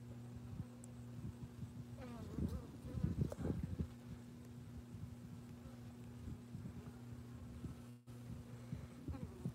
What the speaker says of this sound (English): You can see these bees coming in.